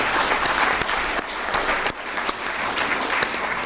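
Loud, dense applause from a conference audience thanking a panel at a health financing forum, continuous rapid clapping with scattered sharp individual claps throughout.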